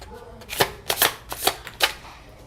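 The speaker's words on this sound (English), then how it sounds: "let's get 6 cards" Tarot cards are shuffled in several quick riffling bursts, close and fairly loud, in an uneven rhythm over a couple of seconds.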